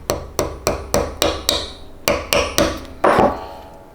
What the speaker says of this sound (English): line up the nail right there and just hammer it in just a little bit